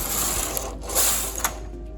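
A domestic knitting machine carriage running across two rows, producing close, loud mechanical ratcheting and clacking as it passes over the needles, with no voices.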